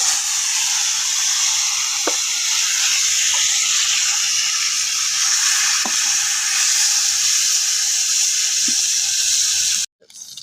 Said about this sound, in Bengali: গরম হয়েছে, এখন দিয়ে দিব বাইন মাছ।